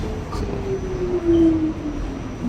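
An NYC subway R-32 train runs along the track with a steady rumble and faint squealing tones from wheels or rails, growing briefly louder just before the middle, with no talk over it.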